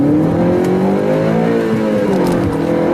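A 2014 Honda Civic Si accelerating hard, its engine note climbing steadily and loud throughout, with no talking.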